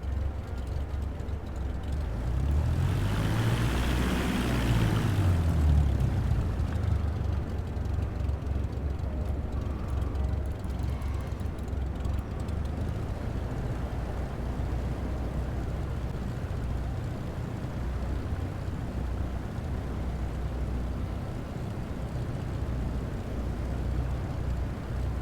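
Cessna light aircraft taking off in Microsoft Flight Simulator 2024, a steady engine drone whose pitch sweeps up and down early on, then settles into a constant hum, with faint radio talk.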